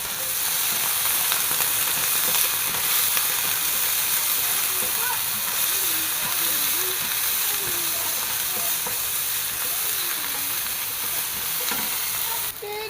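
Chopped tomato and green chilies sizzle steadily as they sauté in a hot pan, with a continuous loud frying hiss close by and occasional stirring scrapes throughout, and no talking.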